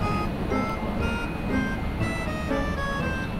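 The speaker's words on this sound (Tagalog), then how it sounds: "Walang check engine pero ang idling malaro. Kanya medyo ma-vibrate." A Toyota Rush engine idles roughly and unevenly, without a check-engine light, giving a continuous close mechanical drone with a faint wavering rhythm and a high whine running throughout.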